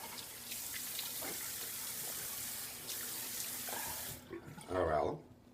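A running tap rinses shaving alum off the face, a steady close hiss of flowing water that cuts off near the end, followed by a brief louder splash.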